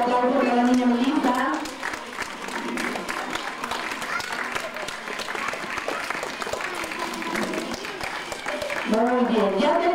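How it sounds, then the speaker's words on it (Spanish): Schoolchildren at a school assembly break into loud, sustained applause, a dense burst of clapping with voices mixed in, and a teacher speaks at the start and end. "fuerte aplauso"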